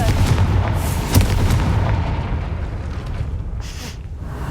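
A Confringo fire spell blasts at a gate in Hogwarts Legacy: a loud booming burst with a sharp crack near the start, then a rumbling fiery roar that slowly fades.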